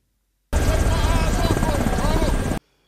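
A loud, steady helicopter roar with rotor chop from the film I Am Legend (2007) fills about two seconds, starting and stopping abruptly, with faint voices mixed in.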